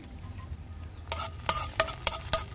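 Scallions sizzle in hot oil in a pan outdoors, with a steady fry under several sharp, rhythmic stirring scrapes and no talking.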